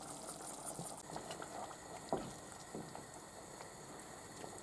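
A wine and tomato sauce simmers uncovered in a pot in a Greek kitchen, with a faint, steady bubbling and occasional soft pops.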